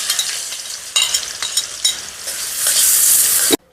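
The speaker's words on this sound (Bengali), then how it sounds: "আমার পেঁয়াজটা মোটামুটি ভাজা হয়ে গেছে।" Chopped onions frying in butter with garam masala, cardamom and cinnamon, a loud close sizzle with repeated scraping stirs that swells into a stronger hiss before cutting off abruptly, no voices.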